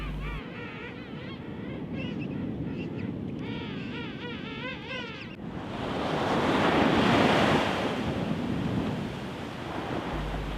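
Rough surf and breaking waves roll onto a beach in a king penguin colony, a steady roar that swells and crashes louder midway, with wind noise buffeting the microphone.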